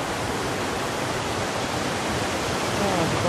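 A river reached on a mountain hike toward Omu Peak, its flowing water making a steady broadband rush that stays even and fairly loud throughout.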